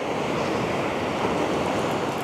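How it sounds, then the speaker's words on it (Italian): Sea surf rolling onto a beach about half an hour before sunset as wind and swell ease, a steady close wash of breaking waves with light wind rumble throughout. "il mare sta tendendo pian piano a calmarsi, è calmato il vento e quindi di conseguenza anche il moto ondoso tende a diminuire"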